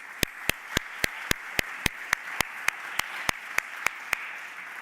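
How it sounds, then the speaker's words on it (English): Applause from an audience after a talk at the URBIS24 event, with a steady wash of clapping punctuated by sharp, evenly spaced claps, moderately distant. "I would thank Dennis again with a round of applause"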